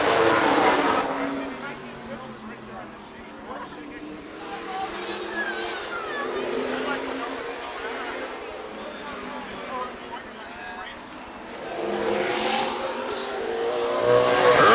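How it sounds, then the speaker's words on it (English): Race cars at a 1994 championship night at Rockford Speedway accelerate at the green flag start, a loud swelling engine roar that rises and falls as they pass, under a commentator's talk. "Here they come on a turn 4, green flag, and we're racing."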